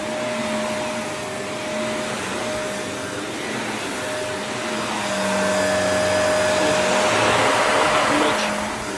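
A Vortex Lite vacuum cleaner runs steadily over area rugs, a constant close whine and rushing airflow that swells slightly toward the end, with no talking.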